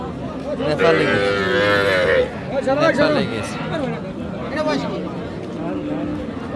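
Cattle, including cows with calves, low loudly amid a busy livestock market in Raniganj, their drawn-out moos rising over constant crowd chatter and voices.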